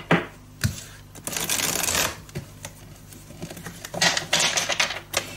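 Tarot-style cards shuffled for a card reading, giving bursts of riffling and snapping that come and go in several rounds, close and fairly loud, with no talking.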